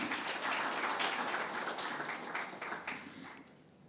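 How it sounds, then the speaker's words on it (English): An audience at an architecture awards ceremony applauds, a soft, dense patter of clapping that fades out over a few seconds. "I think we give her a hand clap"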